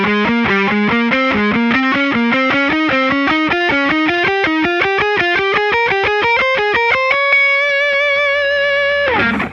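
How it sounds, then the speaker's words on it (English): A distorted electric guitar alternate-picks a four-note scale sequence, each note crisp and evenly spaced as the run climbs steadily upward, ending on a sustained ringing chord, loud and close. "We're alternate picking the whole thing."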